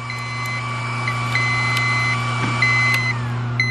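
An ACMER P2 laser cutter sounds a steady repeating alarm, a chain of evenly spaced electronic beeps over a constant machine hum, loud and close with no talking.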